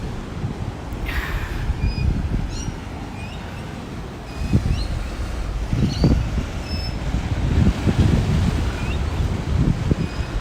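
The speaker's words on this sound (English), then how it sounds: "Let's just listen to the sound of the waves here for a moment" Ocean waves wash and break against a rocky shore at Avoca Beach in early morning, with gusts of wind buffeting the microphone and faint bird calls above.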